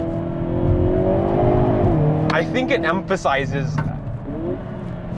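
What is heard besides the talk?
Hyundai Kona N car accelerating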